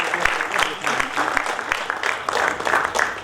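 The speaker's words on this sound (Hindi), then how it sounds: "कृपया तालियों से इनका स्वागत करें।" Audience applause at a Hindi kavi sammelan welcoming the poet Mahesh Dubey onto the stage: steady, dense clapping from a crowd for about three seconds, fairly loud and continuous with slight swells.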